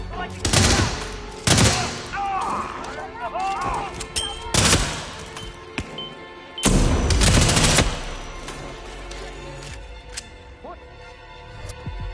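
Gunfire from the stealth action game Hitman 3, several loud broadband bursts of shots and rapid volleys spaced across the clip, with quieter game ambience and scattered sounds between them.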